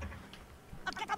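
A short sheep bleat from the video game Worms Armageddon rings out near the end, wavering and nasal, after a stretch of low murmuring background.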